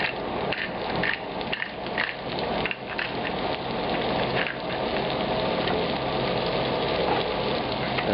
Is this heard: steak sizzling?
yes